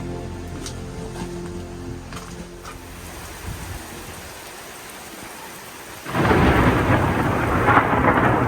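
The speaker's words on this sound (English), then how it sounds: "After waiting out some rain" Heavy rain and thunder in Salzburg arrive suddenly as a loud, dense downpour with rumbling, following a quieter stretch of lighter dripping and ambient noise.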